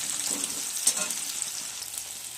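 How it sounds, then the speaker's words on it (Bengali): Onions frying in a kadai, a steady close sizzle with light crackling and a brief louder spatter near the middle, no talking. "পেঁয়াজ একটু ভাজা হবে,"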